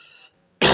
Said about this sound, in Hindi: बड़ी खांसी आ रही है आज।